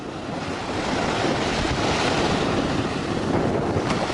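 Waves wash in at the water's edge on a shoreline, a continuous loud roar of surf mixed with wind buffeting the microphone, with no talking.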